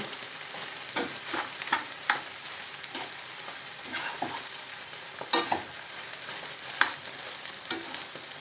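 Filled dumplings (pyrohy) fry in oil with a steady close sizzle. Scattered crackles and light stirring scrapes break through now and then.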